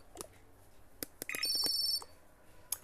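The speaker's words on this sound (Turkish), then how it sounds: "Telefon çalıyor." A telephone rings in the Toca Boca mobile game, a short electronic chirping ring among scattered clicks and taps, fairly quiet and with no talk over it.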